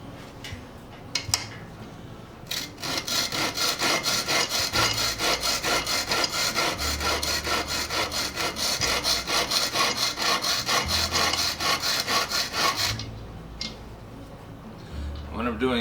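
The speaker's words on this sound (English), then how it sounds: "What I'm doing here is just checking to see where the blade is riding on the sandpaper." The blade of a Stanley 78 plane is rubbed back and forth on sandpaper for sharpening, a rapid, rhythmic rasping scrape that starts after a few light taps and runs steadily before stopping; someone talks intermittently.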